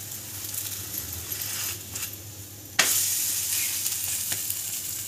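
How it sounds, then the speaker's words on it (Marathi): Poha thalipeeth sizzles and fries in oil on a griddle, a steady close crackle with a sharp hiss as more oil is added partway through, continuing loud to the end. "थोडं थोडं तेल सोडूया म्हणजे चांगलं खरपूस भाजून पलटी करून घ्यायची आपल्याला"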